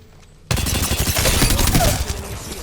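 Automatic weapon fire in Apex Legends, a sustained loud burst of rapid shots that starts abruptly after a brief quiet moment and rattles on steadily to the end.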